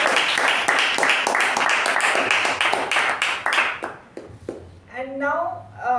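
A Toastmasters meeting audience applauds Toastmaster Sachin with dense, loud clapping for about four seconds that then thins out and fades as a voice starts talking.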